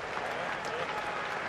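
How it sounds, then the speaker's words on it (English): A Test match crowd applauds two batters at the 1st Test between England and New Zealand, a dense, steady wash of distant clapping that holds throughout. "that is why the applause is coming for these two"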